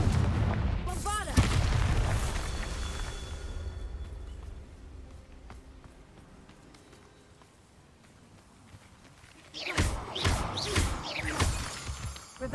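Spell explosions from the Hogwarts Legacy video game, Bombarda and Confringo blasts, burst out in loud crashing impacts near the start and again in a cluster toward the end, with a quieter rumbling stretch between.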